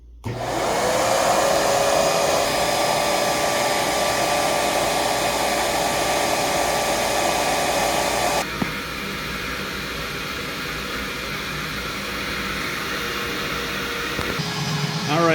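Eureka Express 8281 vacuum cleaner running with the wand attached during an airflow test, a loud, close, continuous rushing roar that drops to a lower, slightly muffled tone partway through before a short shift near the end.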